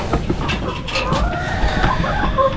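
Chickens clucking and murmuring close by, several birds at once, over a steady background rumble.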